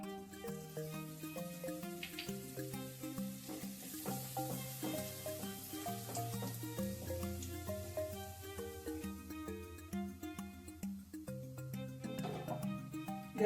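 Asafoetida tempering hisses in two spoonfuls of hot oil, a soft, continuous sizzle heard faintly beneath prominent background music.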